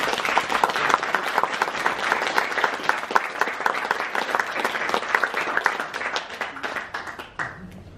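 Sustained applause from a concert-hall audience at a world premiere, dense and steady for about seven seconds before thinning and fading at the end.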